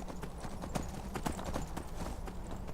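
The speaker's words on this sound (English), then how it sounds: "your Skyrim horse will take you" Horse hooves clip-clop steadily while riding in the Skyrim video game, a rapid regular gallop rhythm over continuous ambient outdoor noise.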